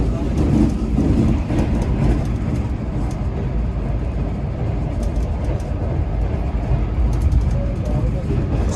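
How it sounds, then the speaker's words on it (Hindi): Shalimar Express passing Sher Shah Junction, a steady loud rumble of train running noise with faint rhythmic clatter throughout, heard from on board with voices occasionally under it. "शेरशाह जंक्शन से हमारी ट्रेन गुजरी है।"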